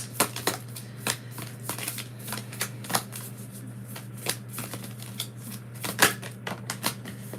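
A deck of cards is shuffled and drawn close up for an astrology card reading, making a steady run of quick riffling flicks and light snaps with no talking.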